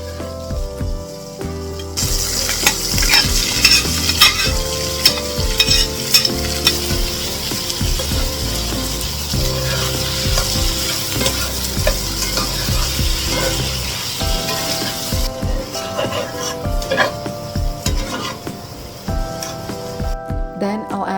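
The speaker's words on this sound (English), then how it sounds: "In go the onions and peppers that we prepared yesterday," Onions and peppers fried in fat in a pan hiss and crackle steadily, punctuated by clanks and scrapes of a utensil, with a voice briefly audible at times.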